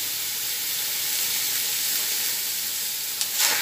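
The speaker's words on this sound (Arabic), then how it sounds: "هنزل اللحمة بتاعتي كلها، اديها صدمة" Lamb meat for kabsa sears in a hot pot with a loud, steady sizzle and hiss that holds unbroken throughout, ending with a brief stir.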